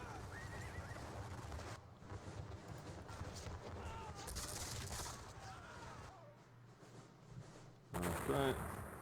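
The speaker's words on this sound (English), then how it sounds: "A lot of counter fire in this bit." Musket counter fire in the John Tiller Napoleonic Series battle of Dennewitz: volleys crackle amid repeated horse whinnies and hoof clatter, with a louder burst of shots near the end.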